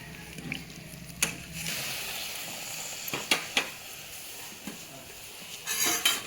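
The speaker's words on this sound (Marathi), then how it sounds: "जितकं होईल तेवढं स्मॅश करून घ्या" Cooked peas for ragda are mashed in a pot: soft, squelching scraping with a few sharp clinks of a utensil against the metal, close by and fairly quiet, with no speech.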